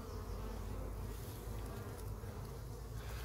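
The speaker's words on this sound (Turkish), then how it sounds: "Bunlar bakın yine şurada eşek arısı salat oldu." Hornets buzz around beehives in a Turkish apiary in late August, making a continuous, faint, dense insect drone with no voices over it.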